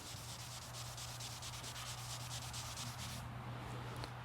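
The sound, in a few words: sanding car paint with a silica carbide disc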